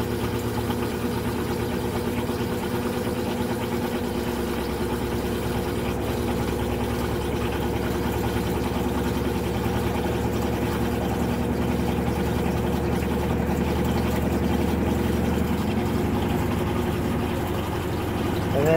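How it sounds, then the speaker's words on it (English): A GE GTW680BSJWS top-load washing machine full of sheets spins up, its motor giving a continuous low mechanical hum that slowly builds and steadies over about twenty seconds. "You can see the motor kick on."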